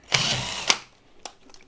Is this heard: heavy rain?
no